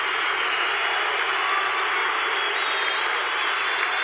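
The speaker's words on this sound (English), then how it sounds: "The crowd just on their feet with this one, Rob." A kickboxing arena crowd on its feet, roaring and clapping in a continuous, dense wash of applause and cheers that holds steady and loud throughout.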